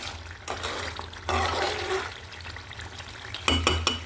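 Broth poured into a pan of fried swamp eel (baim fish) being cooked into a bhuna curry gives bursts of splashing, bubbling liquid and sizzling, starting and stopping several times at close range.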